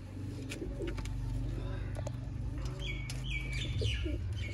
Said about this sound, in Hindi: सियालकोटी दोस्तों छत वाले कबूतर।